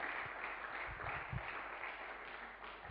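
A church congregation applauds after a song, with steady faint clapping throughout and no talk.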